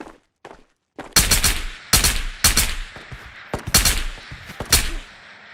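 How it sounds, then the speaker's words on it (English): Loud gunfire in the game Ghosts of Tabor, with several sharp close bursts of rapid shots in quick succession after a few quieter thumps. "Why are you shooting me, dude?"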